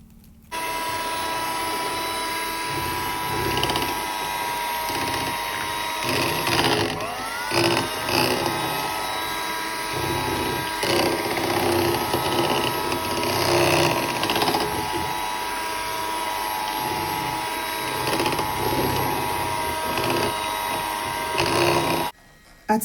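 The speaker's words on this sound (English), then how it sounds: "get a hand whip and whip very well" A hand whip whisks a cooled oil mixture for stretch mark cream, making a loud, close, continuous whirring motor drone that wavers slightly in pitch for over twenty seconds before cutting off.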